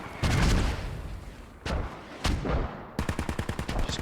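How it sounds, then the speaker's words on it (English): Mortar fire in a combat video game, with heavy booming blasts early on, isolated sharp impacts in the middle, then a rapid rhythmic burst of shots toward the end, loud and close. "Hell of a lot of mortars."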